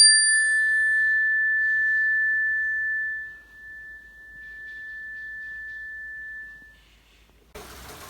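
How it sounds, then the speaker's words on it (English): A single clear bell tone rings out and sustains, slowly fading over several seconds in a quiet room before a soft rustle at the end. "And now for the mindful bell."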